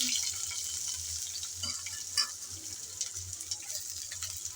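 Chopped onion hitting hot oil with garlic cloves, a steady close sizzle of frying that runs throughout with light scraping and stirring touches, no voices.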